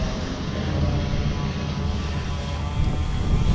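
A mini dumpster delivery truck in Frisco, Texas drives in, its engine producing a loud, steady, close-up roaring drone that holds level throughout, with no speech.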